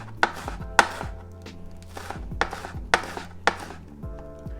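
A knife chops green onion stalks on a cutting board in about six distinct, crisp strokes with short pauses between them, close and clear with no talking.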